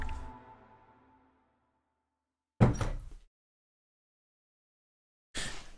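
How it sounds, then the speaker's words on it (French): A room door is shut with a fading thud, then two more short, solid knocks or thumps follow after long silent gaps, each close and fairly loud. "Sors et je ferme la porte."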